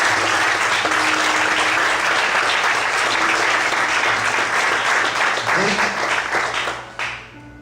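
A church congregation claps loudly and steadily for several seconds in a dense, sustained wave of applause, a few voices rising within it, before the clapping tapers off and fades at the end.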